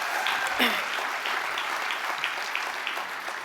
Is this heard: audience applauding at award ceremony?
yes